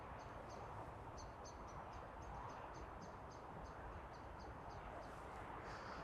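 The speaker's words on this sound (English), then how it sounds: "I can hear the birds probably behind me." Faint birds chirp in a city setting with short, repeated high tweets in quick little groups over a steady background hum, distant and quiet.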